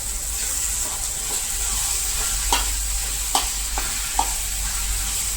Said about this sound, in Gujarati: હવે બધું બરાબર મિક્સિંગ કરી લેશું